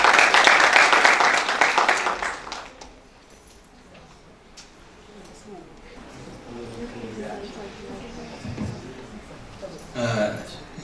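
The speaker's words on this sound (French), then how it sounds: "je vous invite à applaudir chaleureusement" Applause from an audience at a university seminar in a sports-science faculty, loud dense clapping for the first couple of seconds that fades, followed by quieter room sound with a voice talking.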